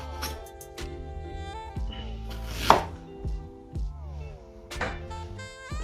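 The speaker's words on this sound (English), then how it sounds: "just use a chunk about roughly that size" A knife chops a chunk of fresh ginger on a board for chicken katsu curry, with a handful of separate, fairly close knocks spread over several seconds beneath a tonal background.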